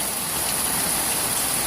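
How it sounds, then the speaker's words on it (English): Very heavy rain hammers down in a loud, unbroken roar of water, close and intense for the whole stretch, with no talking. "Oh my god, it's raining so hard."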